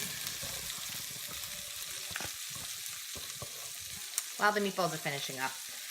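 Turkey meatballs sizzle and fry in a pan, a close crackling hiss with stirring clatter, ending in a few louder scrapes and clinks.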